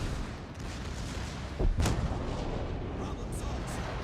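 Secondary guns fire aboard the battleship Big Mamie in World of Warships: one loud, close boom lands mid-clip over a steady low rumble of other gunfire.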